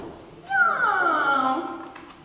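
A human voice imitates a cat's meow: one drawn-out, wavering mew that rises and then slowly falls, heard close and clear against a quiet background.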